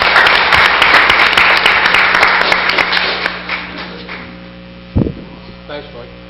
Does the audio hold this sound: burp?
no